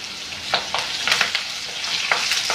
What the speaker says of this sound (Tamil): கருவேப்பிலை வறுப்பட்டுருச்சுங்க